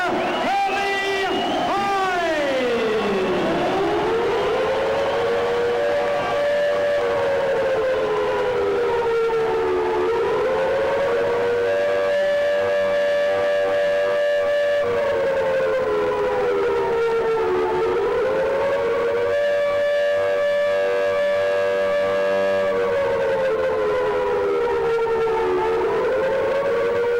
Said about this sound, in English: Sirens sounding a warning for Hyde himself or for Klitschko.